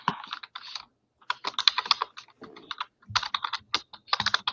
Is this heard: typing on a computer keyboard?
yes